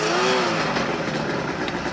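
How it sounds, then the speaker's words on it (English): A two-stroke snowmobile engine revs hard and close, a loud raspy buzz with no pause and no voices over it. "Nice little two-stroke, eh?"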